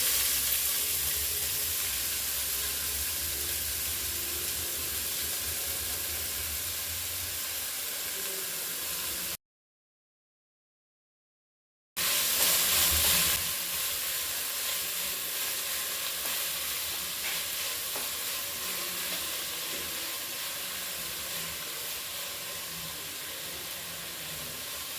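Chopped onions frying on high flame for biryani, a dense, steady sizzle close up that cuts out briefly to silence, then resumes with a louder burst and continues evenly.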